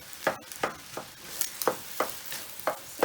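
An egg is stir-fried in a wok on a hot wok burner turned down low, with a spatula scraping and tossing in a steady rhythm of about eight sharp strokes over a soft background sizzle.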